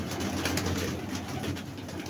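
Several large pigeons coo continuously at close range, soft low throaty calls overlapping steadily with no talking.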